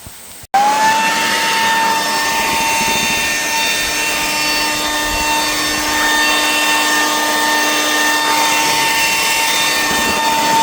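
A vacuum cleaner running inside a Ram van, with a loud, steady whine and hiss that starts abruptly and holds continuously at a constant pitch.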